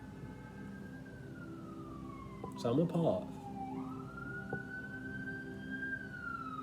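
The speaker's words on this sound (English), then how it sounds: "you hear these sirens" A siren wails steadily in the distance, its pitch sliding down and back up, while someone briefly speaks over it.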